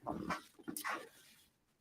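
A small puppy gives a few faint, brief whimpering yips close by, then falls quiet.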